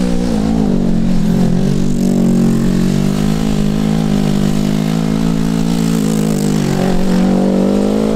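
A GS450 lawn mower engine with smoke coming from its muffler runs continuously, loud and close, with a steady throbbing drone throughout.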